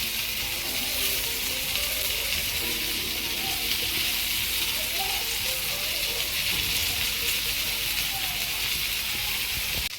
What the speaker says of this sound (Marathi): बांगडे व्यवस्थित फ्राय झाले.